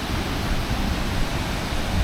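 Waterfall at Harmby in Yorkshire, heard as a steady, dense rush of falling water that holds an even level throughout, with no voices.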